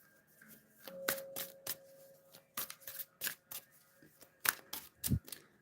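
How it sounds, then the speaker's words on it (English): Tarot cards are shuffled up close, a quiet series of crisp riffling bursts and taps in an uneven rhythm. "Shuffle these cards here real nice."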